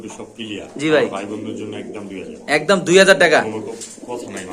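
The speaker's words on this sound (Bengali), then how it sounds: "হাই কোয়ালিটির একজোড়া বন্ডেড কবুতর মাসাল্লাহ দেখতে পাচ্ছেন" A bonded pair of high-quality pigeons coo close by in soft, repeated throaty bursts, the later calls louder.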